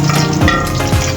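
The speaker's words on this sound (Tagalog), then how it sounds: "Gisa-gisa lang si Ship Tubal" Food sautéing in a cooking pan gives a steady, close sizzle and crackle with faint stirring scrapes, continuous through the short moment with no talking.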